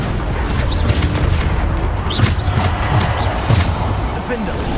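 Bombarda explosion spells in Hogwarts Legacy go off in a dense, steady barrage of booms and crackling blasts with sharp transients throughout, loud and close, with busy combat noise all around.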